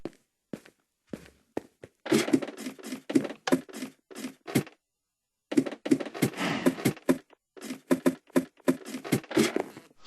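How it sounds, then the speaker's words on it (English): Minecraft ladder climbing sound, a quick series of soft wooden clacking steps repeating in bursts with brief gaps, close and fairly quiet with no talking. "There's also a sound for climbing ladders now."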